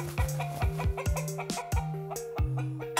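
Chicken clucking in a rapid run of short, sharp clucks, close and fairly loud, with no talk over it.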